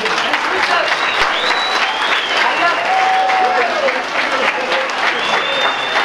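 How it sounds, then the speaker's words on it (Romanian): Loud, dense audience applause fills a Children's Day celebration at Condor Resort in 2019, a steady wash of many hands clapping at once that stays at full strength throughout, with no talk over it. "Vă rog frumos să-l aplaudăm!"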